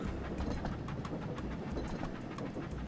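A train runs along rails in a train simulator video game, with a steady low rumble and a regular clickety-clack rhythm of wheels over rail joints, continuous and close, with no voices.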